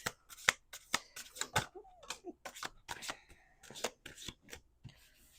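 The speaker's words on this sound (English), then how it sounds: "2 more shuffles" Tarot cards are shuffled in quick, crisp riffles and flicks, a rapid run of soft snapping and rustling close by.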